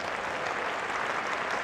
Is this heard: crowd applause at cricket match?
yes